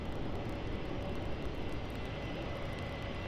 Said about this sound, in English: And here's the Virgin Australia flight to Launceston